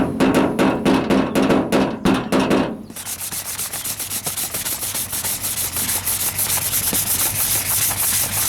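Body filler and glazing putty on the driver's side wheel arch of a 1998 Ford Ranger is sanded by hand in rapid, rhythmic back-and-forth strokes. The harsh, loud rasping shifts to a lighter, brisker scratch partway through.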